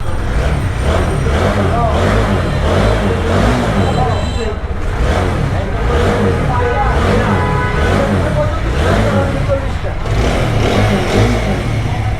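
A second-hand TVS Apache 4V motorcycle engine runs loud and close, holding a steady, continuous rumbling drone for the whole stretch with slight rises in pitch and no pauses.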